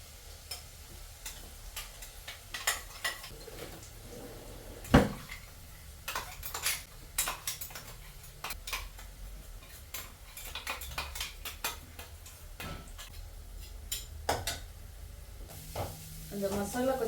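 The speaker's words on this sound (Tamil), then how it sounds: "நம்ம அரைச்சி வச்சிருக்கிற மசாலாவை இதில் போட்டு கிண்டணும்" A spoon scrapes and clinks against a pan while ground masala is stirred into sizzling onions for jackfruit seed poriyal, with irregular taps over a steady frying hiss; a voice talks at times.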